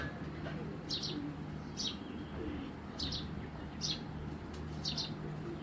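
Pigeons, including a female, give faint repeated coos and soft chirps at a steady spaced rhythm over a low background hum, with no talk.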